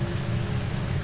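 Steady rain falls in a dense, even patter for about a second, with no other sounds.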